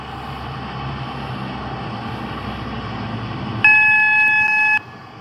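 A passenger train in the Roblox game Stepford County Railway runs through a station with a steady low rumble throughout, then a short, bright electronic chime of several tones sounds near the end.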